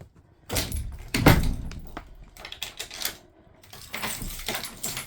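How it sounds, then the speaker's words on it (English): A wooden stable door opens and closes close by with clunks, a latch rattle and a heavy thud, followed by a few more knocks and scrapes and a softer rustling shuffle toward the end. "This is my lovely stable door."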